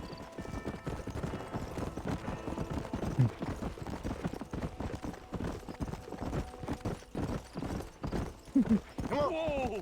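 Horses clip-clop along at a steady pace in Red Dead Redemption, their hooves a continuous rhythmic patter under talking voices, with a brief whinny near the end.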